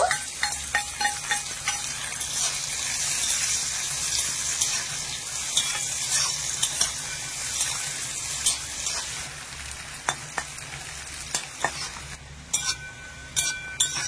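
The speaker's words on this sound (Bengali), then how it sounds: "আর এখানে দেখুন কিশমিশ গুলো কিন্তু খুব সুন্দরভাবে ভাজা হয়ে গেছে" Raisins sizzle and fry in a pan while being cooked for semolina halwa, a steady close hiss broken by frequent sharp clinks and scrapes of a spoon stirring against the metal.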